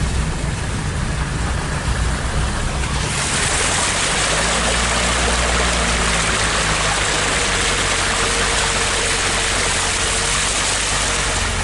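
Farm vehicle pushing through flood water across a road: a low engine rumble becomes a loud, continuous rushing splash of water that swells partway through and keeps churning steadily.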